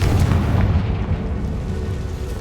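Fiery Confringo spell explosion from Hogwarts Legacy: one heavy, near blast that opens loud and fades into a sustained low roar.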